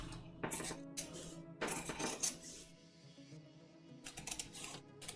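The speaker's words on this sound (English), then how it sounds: "But I forgot mine upstairs, so I'm just going to cut it." Scissors snip through corset fabric pieces in several short bursts of crisp cutting, with quiet pauses between, close and fairly soft.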